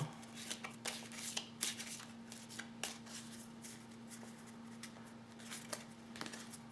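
Oracle cards are shuffled and drawn from a deck, giving a steady near run of soft papery riffles and flicks over a constant low electrical hum, with no voices.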